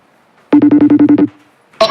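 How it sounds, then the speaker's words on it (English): An outgoing phone call rings on the line with about eight short, evenly spaced electronic ring pulses, loud and close, followed by a brief pause and the start of another sharp sound. "It is ringing."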